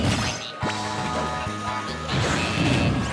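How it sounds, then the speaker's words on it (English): In Super Smash Bros. 4, a bomb held by Rosalina strikes a character: one heavy, sharp crash under a busy game mix, with a thick wash of noise and music around it. "Rosalina was holding a bomb and it just spiked him?"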